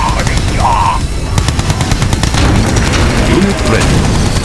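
A Red Alert 2 base comes under attack, with loud, dense rapid gunfire and booming explosions layered continuously throughout, while a voice speaks over the battle.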